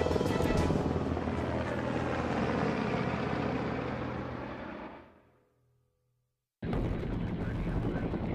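A U.S. Army Black Hawk helicopter roars steadily with dense rotor and engine noise, then cuts to near silence before the loud rotor din returns abruptly.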